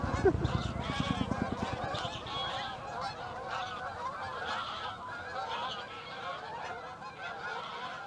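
A flock of geese honking loudly and continuously, spooked by a Chinook helicopter at an air display, many overlapping calls with a low rumble underneath at the start.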